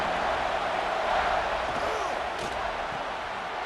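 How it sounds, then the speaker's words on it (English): A college football stadium crowd roars steadily as fans get behind the defense on a big third down in the red zone, South Carolina at Texas A&M, a dense continuous wash of cheering with no break. "this crowd is getting behind this defense"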